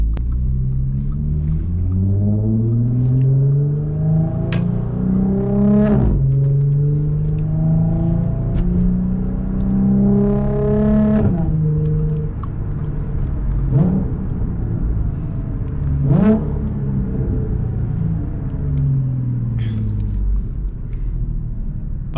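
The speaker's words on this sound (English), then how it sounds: "you guys are going to hear the exhaust a little bit better" An Audi supercharged V6 exhaust drones and rises through repeated accelerations and gear changes while driving at night, loud and close, with no talking.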